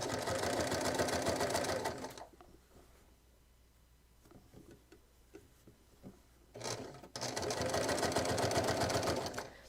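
A sewing machine stitches belt material in two loud, rapid, steady runs, separated by a quieter pause filled with light handling taps and rustles.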